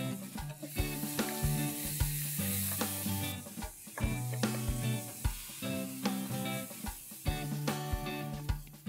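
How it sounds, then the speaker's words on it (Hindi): Finely chopped onions sizzle steadily in a hot pan with browned garlic while a utensil stirs and scrapes, with clinks and clatters over the constant frying hiss. "लहसुन हल्का ब्राउन करने के बाद हम डालेंगे 2 प्याज बारीक कटे हुए"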